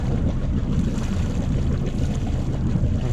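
Marine engine on a sailboat running steadily in gear under load, a continuous low rumble with wind and water noise mixed in, loud and unbroken throughout.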